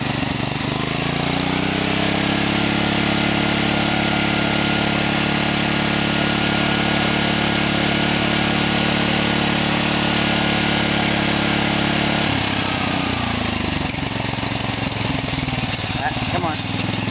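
The nitro engine of an OFNA Raider RC car with an ORC carburetor runs loud and close for a long stretch, holding a steady high-pitched buzz before it falters and sputters unevenly near the end.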